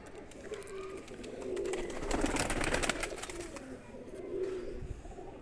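Kamgar pigeons coo close by, with soft, low, repeated throaty calls rising and falling over several seconds, alongside faint rustling.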